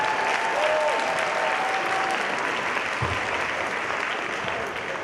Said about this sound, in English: We get another round of applause for him